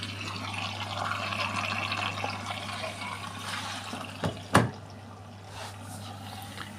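A washing machine fills with water for the final rinse of a duvet: a soft, continuous rush of water over a steady low hum, broken near the end by a couple of brief clunks.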